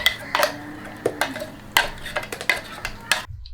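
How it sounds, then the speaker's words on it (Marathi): A spoon mixes spinach purée with red chili powder and salt in a bowl, giving a series of clinking taps and scrapes against the bowl at an irregular rhythm, close and distinct. "आता हे मिक्स करून घेऊया आणि आता ही पालकची प्युरी त्यामध्ये टाकूया।"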